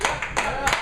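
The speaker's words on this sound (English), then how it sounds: "Round of applause," A few distinct hand claps at a poetry open mic, close and fairly loud, spaced in a brief uneven rhythm under a room tone, with possible speech nearby.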